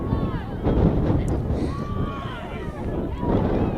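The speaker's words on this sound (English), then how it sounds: "And you can hear the wind picking up again." Wind gusting loudly across an outdoor field at a junior varsity girls lacrosse game, a steady roaring rumble buffeting the microphone throughout.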